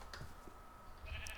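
A sheep bleats in a video game, a short, faint, wavering bleat over a quiet game background, with a soft chime near the end.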